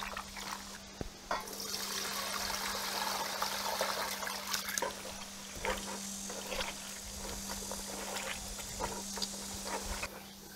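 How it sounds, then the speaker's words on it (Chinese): Chicken pieces are rinsed and squeezed by hand in a bowl of salted water, a steady wet sloshing and swishing that continues throughout under a low constant hum. "再加点水给它抓洗一下，去一下这个血水"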